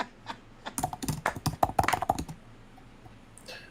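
Someone types on a computer keyboard in quick, uneven bursts of close, crisp key clicks for about two seconds, then the keys fall quiet and only faint room noise remains.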